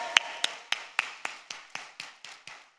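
About ten crisp, evenly spaced claps ring out in a church congregation giving thanks to the Lord, each sharp and clear with a short tail, gradually growing softer.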